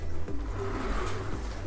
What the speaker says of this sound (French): nous avons des cages de pigeons